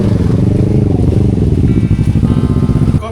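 A motorcycle runs roughly at Rawa Cangkuang Camp, its engine close and loud with an uneven, pulsing, sputtering note that dips and surges.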